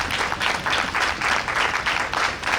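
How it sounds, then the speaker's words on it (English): Audience clapping in a crowd at an outdoor BC Day 2026 celebration in Port Moody, a steady, full round of applause heard up close. "So I think we should give a hand to Finn and his group."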